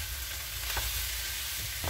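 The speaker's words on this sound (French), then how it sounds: "Voilà, donc je vais rajouter ma viande." Minced meat for chili con carne sizzles loudly in a hot pan, a dense continuous frying hiss close up with faint stirring scrapes, no voices.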